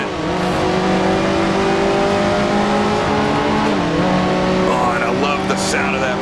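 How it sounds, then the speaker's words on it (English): A Maserati race car engine in the Grand Prix Legends racing game, set in the 1955 Formula One season, drones loud and steady with shifting revs, joined late by tire squeal, while someone comments over it. "The sound of that Maserati, probably my favorite car from the season to drive"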